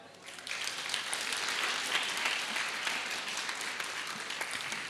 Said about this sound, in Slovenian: prav kakor šte na glas zaploskajte